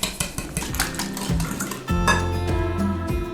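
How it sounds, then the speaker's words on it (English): A spoon or whisk clatters steadily against a bowl while eggs, plain yogurt and sugar are mixed into batter, with quick rhythmic clinks and scraping, close and loud, and no talking. "Now mix everything together."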